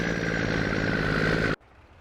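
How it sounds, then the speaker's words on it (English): A loud truck engine in Farming Simulator 22 rumbles steadily at a close, constant idle-like drone, then cuts off abruptly, leaving only faint background. "Yeah, that's a loud truck."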